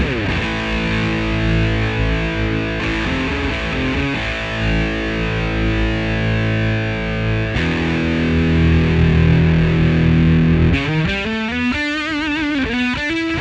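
An electric guitar plays through a Marshall BluesBreaker BB2 overdrive pedal with the drive turned up. Sustained, crunchy chords ring out, then a quick bent lead phrase follows, steady and loud throughout.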